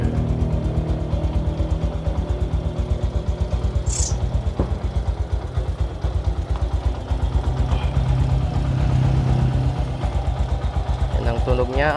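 Stock Yamaha YTX motorcycle engine after five years, choke long disconnected, idling close up with a fast, steady single-cylinder putter and a few brief revs, while someone talks over it.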